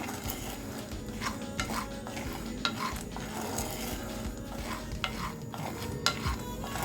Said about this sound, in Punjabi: ਇਹਨਾਂ ਨੂੰ ਆਪਾਂ ਇਦਾਂ ਭੁੰਨ ਲੈਣਾ ਚੰਗੀ ਤਰ੍ਹਾਂ